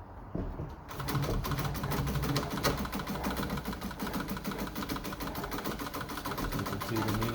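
A treadle-driven Pfaff 130 vintage sewing machine runs a zigzag stitch at a steady clattering pace, its mechanism whirring and ticking evenly and close by, with no talk.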